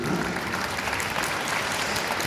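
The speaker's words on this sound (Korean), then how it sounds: "우리 하나님 앞에 감사의 박수 드리겠습니다." A congregation at an Easter union worship service in a university memorial hall gives sustained, dense applause, a steady wash of many hands clapping throughout.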